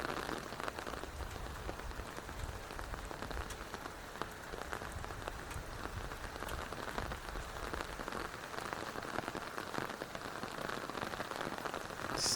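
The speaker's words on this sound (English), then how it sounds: "as you allow the rain to move by and the storm to pass" Steady rain from a passing storm pours onto surfaces for the whole stretch, a dense, even patter with close drops over a low rumbling wash and no voices.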